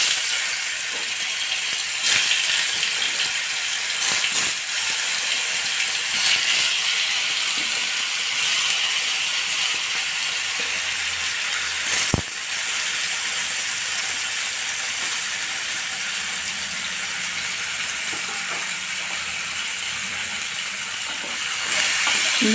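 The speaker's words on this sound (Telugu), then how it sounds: "ఇప్పుడు పన్నీర్ ముక్కలు వేసేసుకుందాము." Paneer pieces sizzle in a hot salted pan, a steady bright crackling hiss that runs on continuously, with occasional sharper pops and clicks and no voices.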